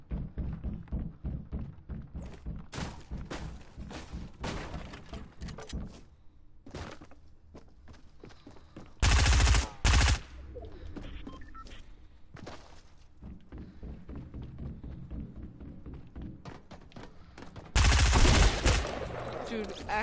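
Bursts of SMG fire in Fortnite Battle Royale, loud rapid volleys mixed with thuds and impacts, with two especially heavy bursts standing out over ongoing game sounds.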